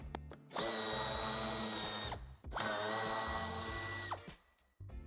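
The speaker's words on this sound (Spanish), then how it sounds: "También quitaremos los tornillos de Torx de 20 en ambos lados." A power driver spins out Torx 20 screws from a Peugeot 208 in two loud, steady whirring bursts of about two seconds each, with a brief pause between them and a quieter tail at the end.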